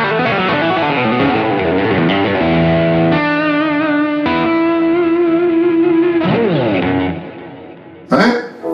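An AST Hathor Signature electric guitar rings out with heavy effects, sustained distorted notes with echo and shimmer, shifting between chords before a sharp click at the end.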